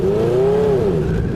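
A rebuilt 1980 Honda CB900C motorcycle engine revs loudly and close, its pitch rising then falling as it shifts gears.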